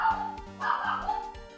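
Dog barking in an Ace Attorney video game, two clipped electronic bark sounds close together, loud and alone over game music.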